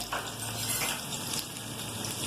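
Onions sizzling in hot oil in a pan while cooking chicken macaroni, a steady soft crackling fry heard close up and alone.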